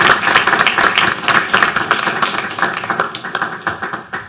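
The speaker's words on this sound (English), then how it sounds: "So if we could just give him a quick round of applause" An audience at a House Oversight hearing on UAP gives a quick round of applause for Dr. Avi Loeb, with close, distinct claps that are loud at first and gradually thin out.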